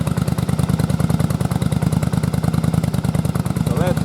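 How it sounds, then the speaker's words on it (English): A Yamaha Virago motorcycle engine runs under load on a test rig with a pump attached, giving a steady, close, rapid pulsing thrum at an even rhythm throughout. "So that's loading the motor down a little bit"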